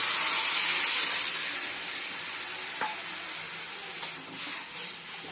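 Water poured into hot red masala for a katla fish curry sets off a loud, close sizzle that hisses strongly at first and then gradually dies down to a softer bubbling fry.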